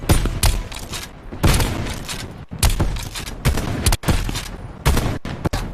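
Sniper fire in a video game: a run of loud, sharp gunshots at irregular intervals, each cracking hard and trailing off, some closely spaced, with no voices.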